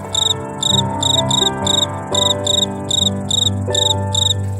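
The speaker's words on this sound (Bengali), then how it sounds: "রাতে বা দুপুরে ঝিঝি পোকার ডাক শোনেননি।" Crickets in rural Bengal chirp in short, regular bursts of high-pitched pulses, close and clear against a steady background hum, with no voices.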